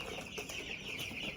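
Cornish cross meat chickens in an expanded cage on a homestead, clucking softly and continuously as a low, steady murmur of fowl sounds with no talk over it.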